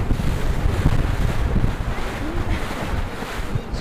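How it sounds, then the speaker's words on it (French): Wind at sea buffets across a boat off Corsica, a continuous low rumbling roar with gusty swells and faint water wash, close and steady with no voices. "il y a un petit peu de vent en mer aujourd'hui"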